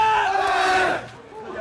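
A crowd of university freshmen shouts together in a loud, sustained cheer for about a second, then the roar thins out into scattered voices.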